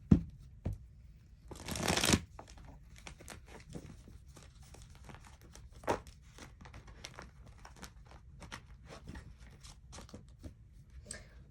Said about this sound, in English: I'm gonna do a quick little shuffle.